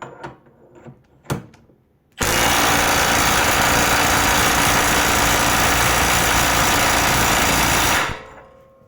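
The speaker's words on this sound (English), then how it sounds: "tightening the nut with the original Milwaukee and then trying to untighten it with the fake one" A genuine Milwaukee impact wrench tightening a nut, a loud, continuous rattling hammer lasting about six seconds, preceded by a few faint knocks and handling sounds and ending with a quick spin-down.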